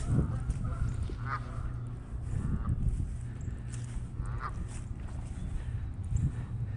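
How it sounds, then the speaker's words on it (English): A goose honks a few times at a pond on an arboretum trail, the calls moderately distant over a steady outdoor background hum and rustle. "A chance to greet one more goose before we say goodbye for the day."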